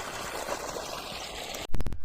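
Water flows steadily in a broad, noisy rush, then a few sharp knocking sounds interrupt near the end.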